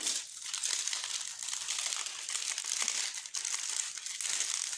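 Steady, close crinkling and crushing of paper, continuous rustling with occasional louder crackles, heard alone without speech.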